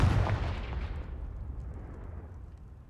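Blast of a Confringo fire spell in the Hogwarts Legacy video game: one loud, sharp explosive burst at the start that decays into a rumbling, fading tail over a few seconds, no talk.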